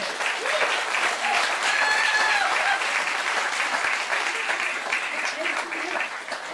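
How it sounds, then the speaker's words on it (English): Sustained applause from an audience at a public talk on sea level rise, even and fairly loud throughout, with a few faint cheers or voices mixed into the clapping. "So one more round of applause for that."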